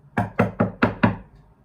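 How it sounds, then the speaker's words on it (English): Five firm knocks on the door of a brick house in quick, even succession, close and loud, followed by silence. "I knocked on the brick house."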